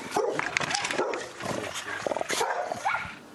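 Several fighting dogs bark in quick, overlapping bursts at close range, with a noisy outdoor background throughout.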